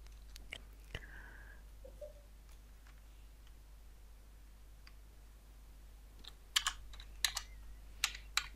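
Computer keyboard keys tapped in short scattered clicks while entering a photo's date taken in an organizer program, with a few quiet isolated taps early on and a denser burst of typing near the end in a quiet room.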